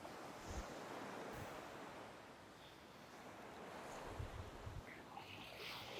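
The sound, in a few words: ocean waves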